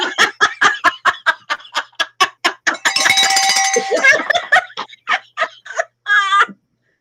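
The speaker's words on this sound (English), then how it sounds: "As I ring my beer bell." Beer bell, a cowbell-like handheld bell, rung in a rapid run of bright metallic clangs, loud and close, with a brief burst of laughter or talk and a final tinny chime.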